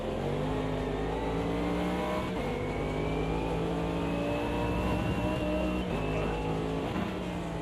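Race cars in a video game, a Porsche and a Mercedes, accelerating off the start line: a dense, steady engine roar of several cars revving together, loud and continuous throughout with rising pitch.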